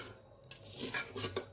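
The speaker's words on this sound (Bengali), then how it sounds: "কনডেন্স মিল্কটা দিয়ে ভালো করে নেড়ে নিচ্ছি" Vermicelli with condensed milk stirred in a pan for a sweet semai dish: a brief run of soft, quiet scraping and squishing as the spoon moves through the thick mixture against the pan.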